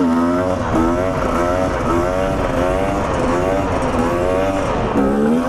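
A two-stroke enduro motorcycle's engine screams at high revs during a wheelie, its raspy note rising and falling in repeated sweeps, loud and close throughout.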